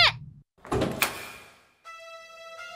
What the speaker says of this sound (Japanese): 私は思わずドアを開け外に飛び出した。